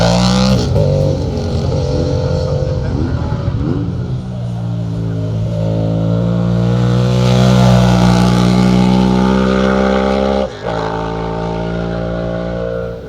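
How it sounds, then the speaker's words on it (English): A Suzuki SB 650 motorcycle races up a hillclimb course, its engine loud and close, revving hard through rising and falling gear changes with a brief cut near the end before pulling away again. "next up it's the turn of Michael Fiddler on his Suzuki SB 650"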